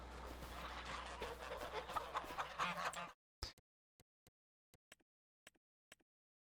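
Chickens and ducks clucking and honking in a barn in the farming game Farming Simulator 25, with a dense, steady spell of poultry noise that stops abruptly, followed by a few sparse, sharp clicks in silence.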